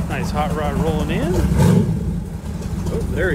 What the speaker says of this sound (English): Hot rod rolling in.